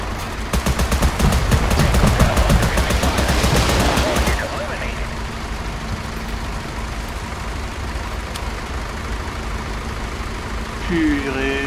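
Rapid automatic gunfire in the video game Total Conflict Resistance, a loud sustained burst for about four seconds that stops abruptly, followed by a quieter rumbling ambience with a brief mechanical sound near the end.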